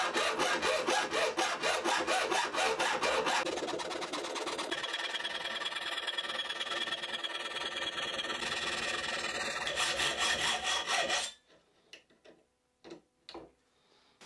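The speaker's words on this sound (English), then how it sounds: "Set it at about a 45, and then I can just cut straight down." A lead-filled saltwater jig clamped in a vise being sawn straight through, a steady, close rasping stroke rhythm running for about eleven seconds before stopping abruptly, leaving a few faint knocks.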